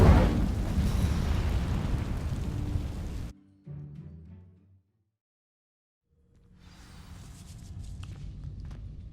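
An Incendio fire spell from the Hogwarts Legacy video game sets dry vines alight with a loud, roaring burst that cuts off into near silence, then a softer rush of burning swells back in.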